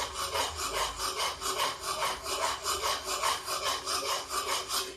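Kheer made with kakun rice is stirred continuously after jaggery is added, giving a loud, rhythmic scraping of a spoon against the pot in even repeated strokes, with no voices.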